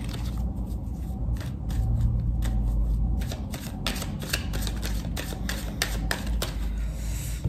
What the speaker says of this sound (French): Je vais bien mélanger les cartes quand même.